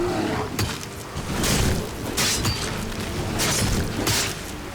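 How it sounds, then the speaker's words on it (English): A bear roars in modded Skyrim during rain, several loud growling bursts over a constant rushing background. "How can a bear sneak up on you?"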